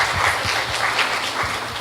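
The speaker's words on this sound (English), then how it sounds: "let's give him a nice round of applause" An audience applauding at a public lecture and reading, a dense, loud wash of many hands clapping, close and sustained throughout, with no voices.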